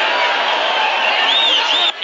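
Boxing arena crowd at a Chávez versus Mayweather bout, a steady broad roar of cheering and murmuring that stays loud throughout, with a commentator's voice running over it and the noise cutting off near the end.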